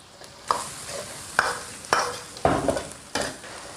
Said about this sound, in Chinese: 下入豌豆，翻炒匀净